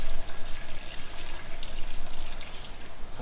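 Fuel poured into the tank of an old Mazda 929, a steady liquid trickle and splash running throughout at moderate level, with no talking.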